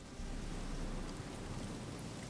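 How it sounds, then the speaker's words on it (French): Stormy wind in The Witcher 3 video game, a steady broadband rushing roar with rain-like texture, constant and moderately loud throughout with no talking. "J'ai l'impression qu'il y a perpétuellement une tempête sur le continent par contre"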